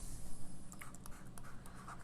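A pen scratches across paper while a matrix problem is written out, with soft irregular strokes close by and faint.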